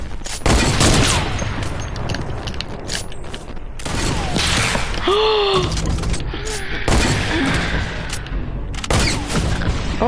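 Gunfire in the Fortnite video game cracks out in a dense, loud volley of repeated sharp shots across a busy battle soundscape.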